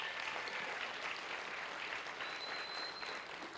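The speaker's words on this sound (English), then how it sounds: "Can we give them a big round of applause for that?" A big round of applause fills an award luncheon hall, a constant wash of many clapping hands that sounds distant and soft, with no talk over it.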